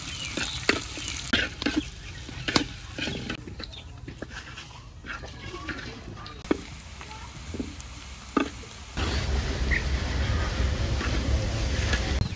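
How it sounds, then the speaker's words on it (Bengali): Chopped onion and garlic fry in oil in a kadai as tempering for dal, with scrapes and stirring clatter over a low sizzle that swells into a louder, steady frying hiss toward the end. "এবার কড়াইতে তেল দিয়ে দিলাম, রসুন কুচি দিয়ে দিলাম,"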